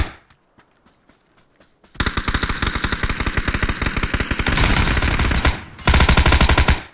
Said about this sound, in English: I was shooting him in the face with the AK.